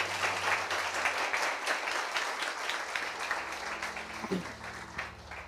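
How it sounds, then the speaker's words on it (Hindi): A church congregation applauds loudly and steadily for several seconds, a dense wash of clapping filling the room with a few voices mixed in. "आइए उसके लिए ताली बजाएंगे हम जोर से"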